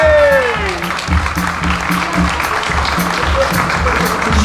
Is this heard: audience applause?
yes